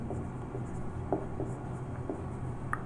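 A pen writes by hand on paper, close and quiet, with a few short scratchy strokes and taps over a soft background hum, with no talking.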